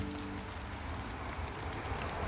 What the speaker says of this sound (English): We are finally getting some much needed rain